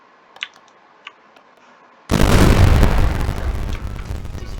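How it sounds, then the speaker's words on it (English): A small cluster bomb made of four small bombs detonates in the Warium mod, a sudden loud blast that breaks out after faint ticks and pops and then rumbles on in a sustained, crackling roar. "Decent size explosion."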